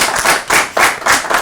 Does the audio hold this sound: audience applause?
yes